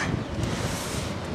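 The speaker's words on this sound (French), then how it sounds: "Je sais pas si vous m'entendez correctement, il y a beaucoup de vent" Strong northeasterly headwind buffets an outdoor microphone, a continuous broadband roar with uneven gusting rumble in the low end and no voice.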